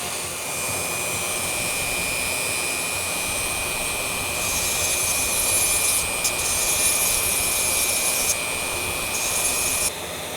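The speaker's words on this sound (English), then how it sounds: "I'm gonna use the Dremel, and it's gonna suck." A Dremel rotary tool grinds a taper on a small part for a vintage Teac Model 5 recording console restoration, a constant high-pitched whine with a steady buzzing grind, close and continuous throughout.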